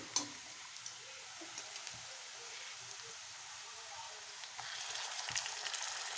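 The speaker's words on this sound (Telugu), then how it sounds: "ఉల్లిపాయలు వేగిపోయండి ఇప్పుడు అల్లం వెల్లుల్లి పేస్ట్ వేసుకుందాం" Onions sizzle and crackle steadily in hot oil in a pan as ginger garlic paste is added for a goat head curry. The frying is close and continuous and swells louder toward the end.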